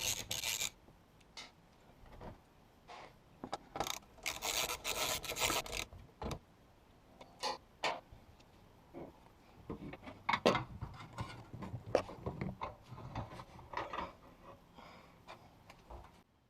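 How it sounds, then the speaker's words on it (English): A wrench turns the 10mm belly pan bolts on a Porsche 944 Turbo, giving faint intermittent ratcheting and rasping scrapes with quiet gaps between bursts, close by and with nothing else over them. "I recommend loosening the 3 10mm bolts from these access holes."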